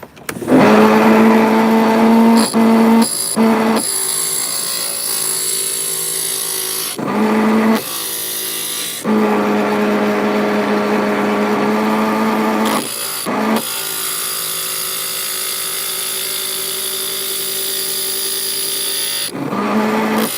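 An electric glass grinder grinds a piece of glass, a loud continuous motor whine broken by several short pauses and restarts, close and steady throughout.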